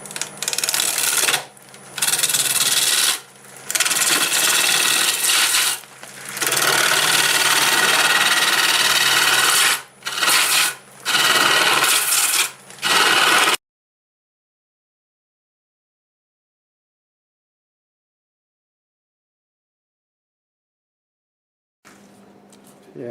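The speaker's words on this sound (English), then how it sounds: "5/8 bowl gouge, swept back." A 5/8 swept-back bowl gouge cuts a staghorn sumac bowl on a wood lathe, giving loud rough scraping passes with short pauses, then sudden silence and a faint return near the end.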